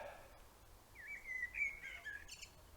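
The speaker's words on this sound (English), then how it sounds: "I've got birds in the trees outside." Birds sing in trees outside in the Scottish Highlands near Cannich on the Affric Kintail Way, giving a short faint run of chirps and a trilling phrase over a quiet background.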